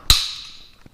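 A Whitney Jensen hand punch drives a hole through galvanized steel in a single sharp metallic snap, followed by a short ringing decay and a faint second tick near the end, close with no talking.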